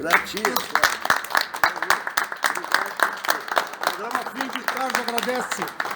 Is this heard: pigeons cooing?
no